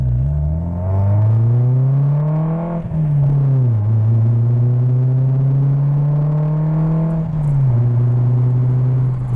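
A Peugeot with a loud aftermarket exhaust drones with a deep, rumbling note, holding steady and briefly dipping in pitch before pushing back up.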